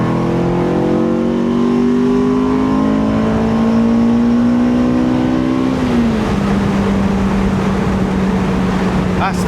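A Honda S2000 engine runs loud and close, revs climbing steadily for several seconds, then dropping sharply after a downshift and settling into a steady lower drone with rushing road and wind noise.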